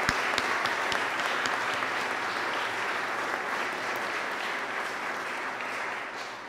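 Steady crowd applause at a college graduation ceremony in Cork, a continuous even roar of many hands that holds for several seconds without talk.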